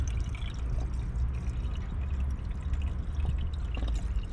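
Special coolant water pours into the coolant reservoir of a BMW X5 E53 4.6 is, a steady close trickle and splash lasting a few seconds with no talking.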